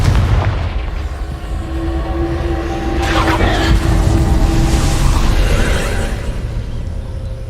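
The Confringo fire spell bursts in Hogwarts Legacy, a rumbling explosive blast with crackling debris, loud and sustained over several seconds amid game ambience.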